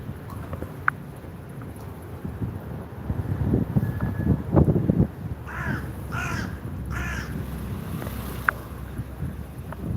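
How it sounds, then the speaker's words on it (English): A grey-bodied hooded crow in Istanbul gives three hoarse caws in quick succession, standing clear over steady wind rumble and boat noise on the water, with no talking. "Istanbul crow is not fully black, you know."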